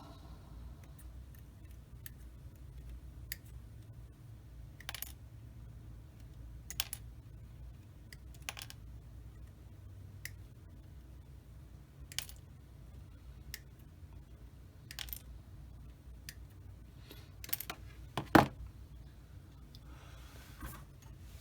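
Plastic parts from a Tamiya 1/35 M3A1 scout car model kit are snipped off the sprue, giving a series of small, sharp, irregularly spaced clicks over a low background hum, with a louder snip near the end.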